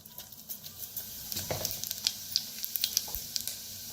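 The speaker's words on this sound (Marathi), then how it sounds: "तेल चांगलं गरम झालेलं आहे. त्याच्यात टाकूया मोहरी अर्धा चमचा. अर्धा चमचा जिरं." Mustard seeds and cumin sizzling in hot oil, a steady crackling hiss with sharp pops and spits scattered throughout, close and fairly loud, with no voices.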